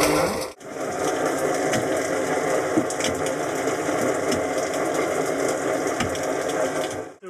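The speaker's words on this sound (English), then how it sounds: "There's a big pumping air hose coming all the way down here." Air pump forcing air down a hose into a 100-foot-deep gem and sapphire mine pit in Ratnapura, Sri Lanka, giving a steady loud broadband rush and rumble with faint rhythmic clatter throughout.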